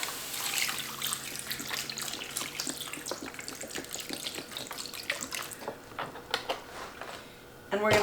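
Veggie broth pours into a pot of whole tomatoes, a soft liquid splashing and trickling that fades in and out, fairly quiet, with faint kitchen clatter.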